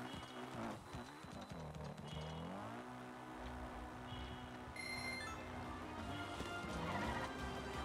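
Horse galloping and neighing in The Legend of Zelda: Breath of the Wild, a steady loud hoofbeat rhythm with whinnies, mixed with game music and effects throughout.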